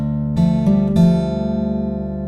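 Acoustic guitar picked fingerstyle through a bar of the Harry Potter theme outro, with three quick plucked notes in succession followed by a sustained, gently decaying ring.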